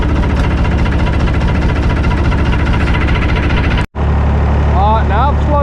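Tractor engine chugging while tilling a garden, a loud, close, rhythmic knocking drone that cuts out for an instant and resumes just as strong.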